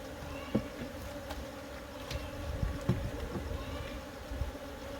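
Honey bees buzz around an opened hive during a queen inspection, making a faint, continuous hum with a few louder passes of single bees close by.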